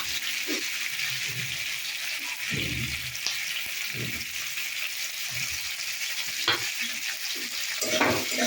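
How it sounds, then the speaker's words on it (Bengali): Bitter gourd fries in a pan with a steady, fairly faint sizzle, punctuated by intermittent stirring scrapes and clinks. "আমার উচ্ছেটা ভাজা হয়ে গেছে"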